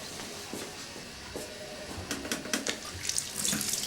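A tap runs steadily into a sink as hands are washed, a continuous close splashing rush with brighter spatters toward the end and no talking.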